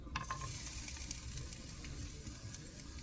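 Ginger slices hitting a hot wok, a steady loud sizzle and spatter of frying that runs throughout with no voices.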